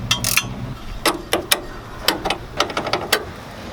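Wrench ratcheting as a bolt is removed from a differential hub, a series of quick metallic clicks in short irregular bursts, close and fairly clear with no talking.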